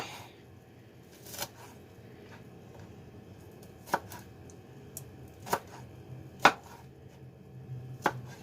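Food for a cheesy chicken rice bake is chopped on a board, a handful of sharp, well-spaced knife strikes over a quiet background.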